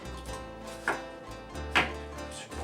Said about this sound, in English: I'll cut off the ends. Nice and carefully, kind of thinly, so I don't lose much of the onion.